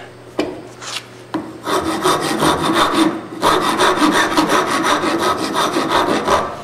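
A file rasps lightly across the corners of a handmade wooden tabletop, starting with a couple of short isolated scrapes, then settling into steady, close, rhythmic back-and-forth strokes that carry on without pause.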